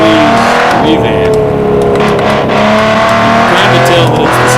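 A 1973 car's engine roars continuously in a racing video game, loud and sustained with shifting pitch as it revs, while a voice talks over it.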